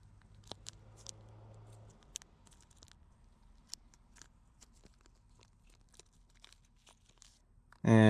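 A packet of adhesive-area prep material for a Mustang deck lid panel being torn open, a few sharp papery rips and crinkles scattered across a quiet room, fairly close and faint, with a louder bump at the end.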